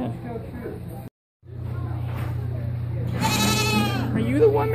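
Sheep bleat close by, a wavering nasal cry rising near the end over a steady low engine-like hum, with people talking nearby.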